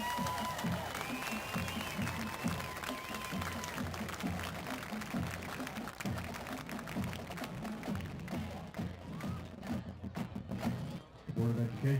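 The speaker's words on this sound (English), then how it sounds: "How about another round of applause for our marching Thunderhawks?" Crowd applause in a high school football stadium for the Lakota East marching band, a steady, distant wash of clapping with thuds and band-like tones underneath, swelling louder near the end.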